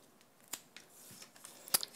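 Scissors snip through mounting foam while layering die-cut card pieces, giving a few quiet, separate cuts with a sharper snip near the end, set against a faint background.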